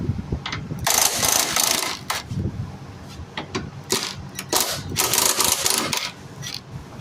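An air impact gun hammers off 13 mm bracket bolts on a 2011 Cadillac CTS RWD, loud rattling bursts in several separate runs with short pauses between them, close up.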